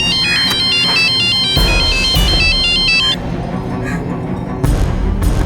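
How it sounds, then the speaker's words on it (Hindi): A phone ringtone plays loudly as an outgoing call rings, a repeating electronic melody for about three seconds over a busy background mix, then stops. "तुम करो मैं दीपक के घर पे कॉल करता"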